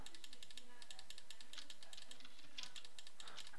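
A computer keyboard is typed on rapidly during an online game, giving a dense stream of sharp, faint plastic key clicks in quick irregular bursts, with some soft background sound beneath.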